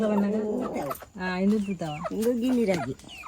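A chicken squawks and clucks loudly up close in a run of harsh, wavering calls with brief pauses between them.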